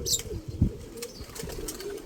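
A soft, low coo from a yellow tiger grizzle pigeon sounds once near the start, close by and faint, with a few light rustles and chirps around it.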